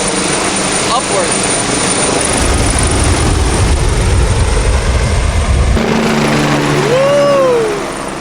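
A Miami-Dade Fire Rescue helicopter lifts off nearby with a loud, rising rotor and engine roar that swells and shifts in pitch, while people talk and exclaim over it.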